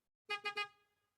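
Three short, bright car horn honks in quick succession, fairly loud and close, with a brief ringing tail and no talking.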